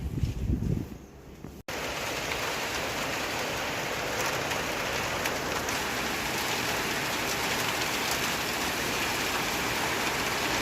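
Steady, dense rain pours down continuously, a broad hiss that fills the scene after a brief quieter moment at the start.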